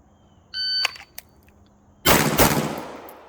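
Staccato P DPO pistol shots fired during a timed shooting drill: one sharp crack, two brief follow-up pops, then a loud blast that rings out for about a second, with no talking.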